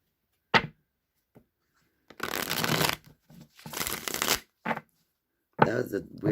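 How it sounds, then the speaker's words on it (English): A tarot card deck is riffled in several close, rapid bursts, each a dense papery flutter, separated by short pauses and soft handling taps. "I'm going to shuffle one more time."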